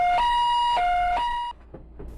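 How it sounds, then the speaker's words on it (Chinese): An ambulance siren arrives at a Taiwanese road crash where a drink-driver hit two motorcycle riders. Its loud, two-tone wail alternates a few times, then cuts off abruptly, leaving quieter street noise. "救护车赶到现场"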